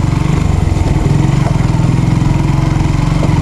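A motorcycle engine chugs loudly and close on a riverside road, a steady pulsing idle-like throb running throughout with no talk.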